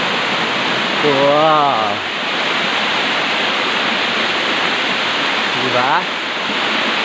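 Wara Wara Falls in San Isidro, Bulan, Sorsogon, with a strong current pouring in a constant, loud rush of white water while a person briefly exclaims twice over it.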